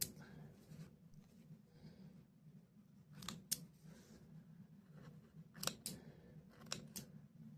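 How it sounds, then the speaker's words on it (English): Small thread clippers snip threads in a few crisp, close clicks, two paired snips standing out over a faint low hum in a quiet room. "I like these little clippers for thread."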